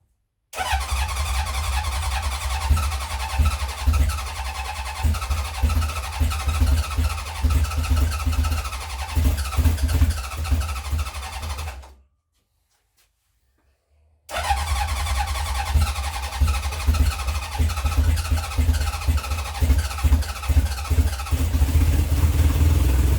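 A 1970 Honda CB750 K0 motorcycle engine, first started after decades of sitting, runs loud and steady up close, seemingly not firing on all cylinders. It cuts out briefly to silence partway through, then starts again and keeps running.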